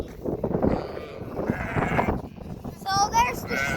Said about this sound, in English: So there's the sheep.